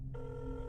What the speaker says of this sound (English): They let it ring once and then hung up.